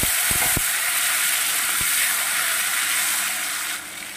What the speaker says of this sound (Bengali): টমেটোটা একটু ভাজা হতে থাকুক